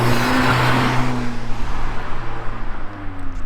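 A Mercedes CLA45 AMG fitted with a K&N air filter idles with a deep, steady engine drone that slowly fades, heard up close with no talking.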